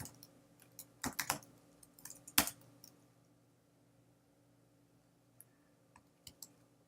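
Variable names are typed into R code on a computer keyboard: sharp, close key clicks in quick bursts, then a pause and a few scattered taps.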